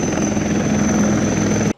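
An Indian Army Dhruv helicopter flies close by in a high-altitude setting, its rotor and turbine making a loud, continuous throbbing drone with a steady high whine above it.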